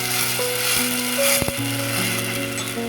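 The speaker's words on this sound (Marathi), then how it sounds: "मसाला घालणार आहोत अशा प्रकारे भाजून घेऊया थोडासा" Spice masala roasts in a pan for Maharashtrian masale bhaat, a loud, dense, unbroken sizzle close by with steady humming tones running beneath and a brief clatter midway, without any talking.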